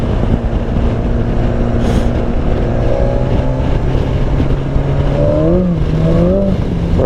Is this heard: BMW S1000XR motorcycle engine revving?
yes